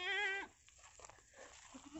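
Goats being herded by a farmer give one clear, close bleat at the start, followed by quiet rustling and faint distant sounds.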